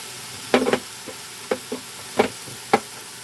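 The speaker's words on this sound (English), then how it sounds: "Now we're going to saute those onions right in there." Onions are sautéed in a pan for gnocchi soup. Quiet sizzling sits under a handful of sharp spatula knocks and scrapes spaced out at irregular intervals.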